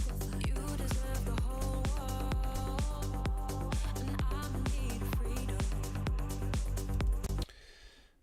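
Melodic techno track moving from its intro into the first verse, with a steady four-on-the-floor kick, layered synths and bass playing loud and continuous before cutting off abruptly near the end.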